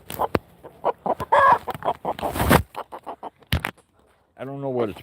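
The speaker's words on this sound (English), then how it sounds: "This rooster's insane." A rooster on a goat and chicken farm clucks in a rapid, busy series of calls, then ends with a loud, drawn-out harmonic crow close by.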